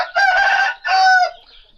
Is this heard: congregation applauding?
no